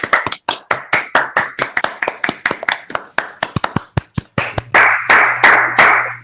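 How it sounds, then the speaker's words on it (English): Scattered claps from a remote online conference audience arrive staggered and out of sync, one after another in an irregular ragged patter, growing denser and fuller near the end with a low hum underneath. "so the claps, they come one after the other"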